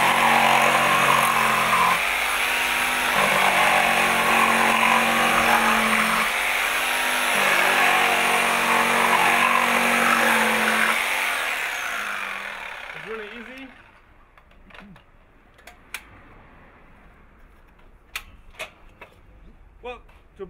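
A reciprocating saw blade cuts through wood in a loud, harsh buzzing run with a few pitch changes, then stops abruptly, leaving faint scattered clicks and light handling noises.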